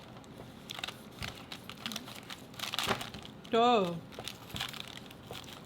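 Knife cutting through a homemade Chick-fil-A style chicken sandwich, a crinkly crunching of bread and wrapper, with a person speaking briefly and a short squeaky noise near the middle.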